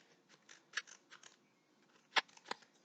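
Scissors snip through a paper craft Easter egg in a quiet room, a few soft scattered snips followed by two sharper, louder cuts near the end.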